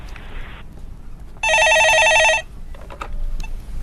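A telephone rings once on a live stock-market call-in show, a loud, bright electronic trill lasting about a second amid quiet studio sounds.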